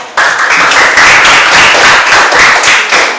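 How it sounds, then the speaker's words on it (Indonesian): Dense, loud clapping from a group, continuous and steady throughout with no pauses. "Ini tepuk tangan."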